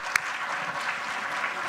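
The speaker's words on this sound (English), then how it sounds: "let's do a huge round of applause" Steady applause from a sizable crowd at a banquet in Palo Alto, California, dense and even throughout, with one sharp louder clap near the start.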